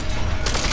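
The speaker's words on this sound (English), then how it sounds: "I hit this man for 70 with a hand cannon" Hand cannon gunfire in an online shooter video game, a dense, loud burst of blasts crowding the short moment with a sharper crack near the end.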